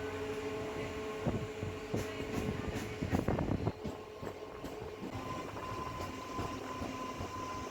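Steady rolling rumble and rhythmic clatter come from a MEMU passenger train passing through Pendiyala station between Secunderabad and Warangal, with a cluster of louder wheel knocks midway and a faint tonal hum throughout.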